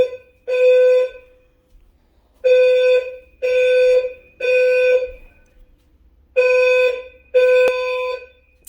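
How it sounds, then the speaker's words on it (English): A smoke alarm in a building sounds in loud, piercing electronic beeps, each about half a second long, arriving in an uneven series of seven with short silent gaps between. "Someone set the fucking smoke alarm."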